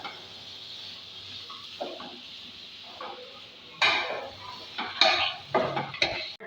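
Mango pieces for a homemade mixed pickle are stirred as they sauté in a pan. A spoon scrapes and clatters against the metal in irregular bursts, growing louder toward the end over a soft background sizzle.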